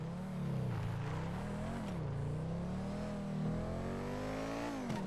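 Video game car doing burnouts in an abandoned parking lot near a marina: a loud, continuous engine drone with rising and falling revs and a steady whine throughout, close and alone.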